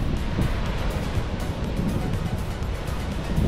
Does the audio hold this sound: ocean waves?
yes